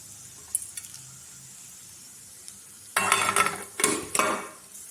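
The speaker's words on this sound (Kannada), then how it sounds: "ಇವಾಗ ಒಗ್ಗರಣೆ ಸಾಮಾನು ಹಾಕ್ತೀನಿ" Tempering spices hit hot oil in a pan beside frying peanuts, bursting into loud sizzling and crackling after a few quiet clinks of utensils, then hissing in two strong waves up close.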